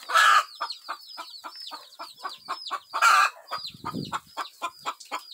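A young chick, one that walks with an unusual gait, peeps over and over in quick, high, bright chirps close by, a steady run of calls broken by a couple of louder, harsher squawks.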